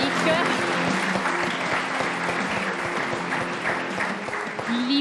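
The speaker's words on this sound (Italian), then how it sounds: "Facciamo un grosso applauso a Yannick." Applause for tennis player Yannick Sinner, honoring him after his defeat to Djokovic: a steady, dense wash of clapping from an audience, loud and sustained for about five seconds, with a voice faintly underneath.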